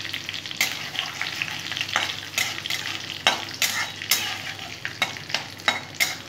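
Whole spices for tempering (cumin seeds, two dried red chillies, cardamom, cinnamon and bay leaf) fry in a hot pan with a steady sizzle, while a spoon scrapes and stirs in repeated sharp strokes up close; no one speaks.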